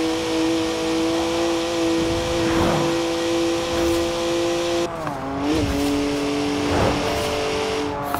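A rear-wheel-drive BMW 1M with a twin-turbo 3-litre straight six drives in Forza Horizon 4, its engine droning steadily with a shift in pitch around midway, occasional tyre noise, and no talking.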